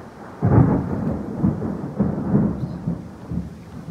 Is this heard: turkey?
no